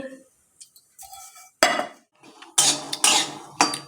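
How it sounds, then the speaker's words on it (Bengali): Peanuts being fried and stirred in a pan: close, irregular bursts of spatula scraping and clattering against the metal, with short quiet gaps between strokes. "ভেজে নিচ্ছি"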